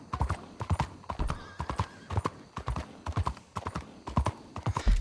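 Hooves of a horse in Red Dead Redemption 2 pound in a fast, rhythmic gallop of sharp, close clip-clops, repeating steadily throughout without voices.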